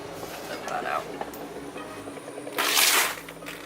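Water splashes out of a container into an RV kitchen sink in a brief, loud, hissing gush near the end, preceded by quieter shuffling.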